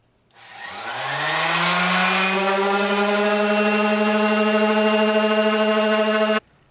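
A power sander scuffs cabinet doors with 220 grit before painting. It spins up to a steady, loud whirring drone that holds for several seconds and then cuts off abruptly, with no talking.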